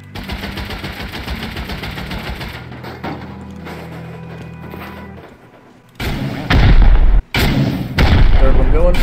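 Rocket explosions in the game Rust come in as loud, heavy blasts late on, several booms with brief gaps, after a stretch of quieter ambient noise and a low drone.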